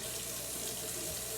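Tap water runs steadily into a sink, rinsing raw cubed steak under the faucet; a continuous close splashing hiss with no talk.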